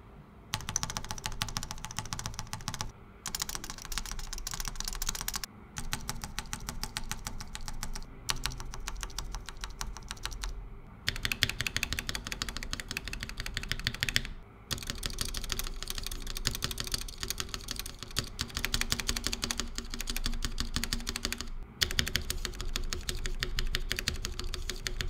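Mechanical keyboard typing test comparing stock nylon and polycarbonate Staebies stabilisers with a stock Durock V2 and a lubed, modded C3 stabiliser: continuous close-up bursts of key clacks and spacebar thocks, separated by short pauses.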